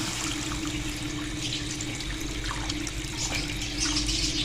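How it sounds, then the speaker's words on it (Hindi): About two glasses of water pour onto browned chicken in a cooking pot for chicken cutlets, a steady, continuous splashing wash of liquid lasting several seconds, close and fairly loud. "अब इसमें डाल देंगे 2 गिलास के करीब पानी"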